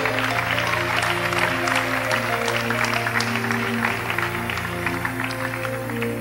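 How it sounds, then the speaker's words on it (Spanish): A church congregation applauds the Lord during a sermon, steady crowd clapping over a sustained organ or keyboard chord, fairly close and even throughout. "Dele un aplauso al Señor."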